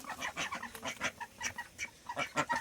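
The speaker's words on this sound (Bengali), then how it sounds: "এখানে হাঁস আছে" Ducks kept at a village house, a flock quacking in rapid irregular bursts, close and fairly loud, overlapping calls with no talk.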